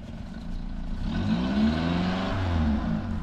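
A car engine climbing an uphill slope during a beginner driving lesson, revving steadily and rising in pitch under light throttle with careful clutch control, close and continuous.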